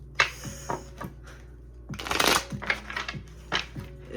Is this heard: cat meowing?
no